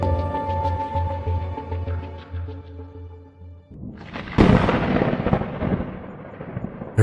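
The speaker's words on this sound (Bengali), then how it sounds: "আকাশ কালো মেঘে ঢাকা, বিদ্যুৎ চমকাচ্ছে" A cartoon thunderclap for a stormy night with lightning strikes loudly and rolls on as a long rumble. It cuts in suddenly after a tonal music passage.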